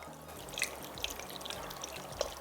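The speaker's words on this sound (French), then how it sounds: "Donc, je vais mettre une quantité de l'eau ici." Water is poured over tamarind in a kitchen, a quiet, close trickle with small splashes and drips, no voices.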